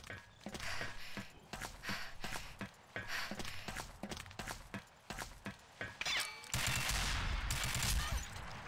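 Rapid bursts of gunfire from a Combat Arms fireteam match crackle in quick, irregular volleys, sharp and close, ending in a denser, louder stretch of sustained shooting.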